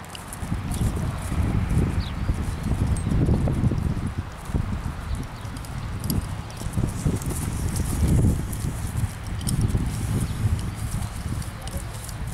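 Tame bay horse moving steadily, hooves clip-clopping in a fairly close, continuous rhythm over some wind-like background noise.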